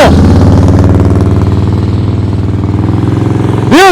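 A motorcycle engine rumbles loud and close during slow-speed riding practice, holding a steady low-speed pulse with small throttle changes, then rising briefly in pitch at the very end.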